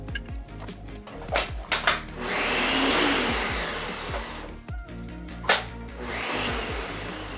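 A blender whirs through a batch of pineapple habanero hot sauce, starting in short loud pulses and then running steadily for a few seconds before a couple more brief bursts, with no talking.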